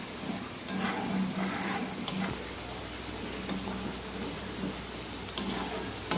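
Onion, ginger, garlic and chili paste masala sizzling and being stirred in a pan, with a steady close fry and occasional utensil scrapes.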